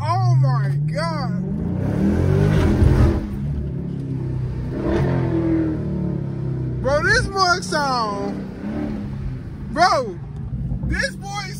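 A loud 2015 Dodge Charger SRT 392 engine with a mid-muffler delete rumbles and revs in bursts through its unmuffled exhaust, with people talking over it nearby.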